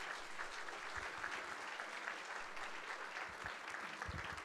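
Audience applause welcoming a speaker at a German–Sri Lankan night event, a dense continuous clapping from a sizeable crowd, fairly distant and quiet, holding steady throughout with no speech.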